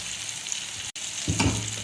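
Tadka spices with ground red chili frying in hot oil for achari daal, a steady close sizzle with a brief break and a louder crackling surge near the end.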